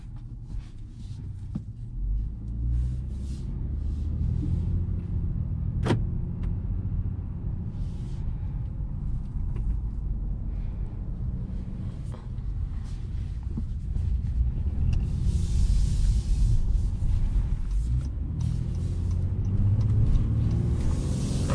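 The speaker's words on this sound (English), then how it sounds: "let's go ahead and take this 2021 Honda Passport on a test drive" A 2021 Honda Passport on a test drive, heard from inside the cabin as a steady low engine and road rumble with a little wind noise, and no talking.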